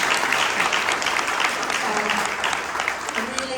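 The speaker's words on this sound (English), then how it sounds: "I hope everybody will give a big round of applause for Andy" Crowd applause at a residents' association mayoral candidates meeting, a steady wash of clapping for the moderator with a voice speaking over it toward the end.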